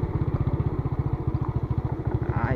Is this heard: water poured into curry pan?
no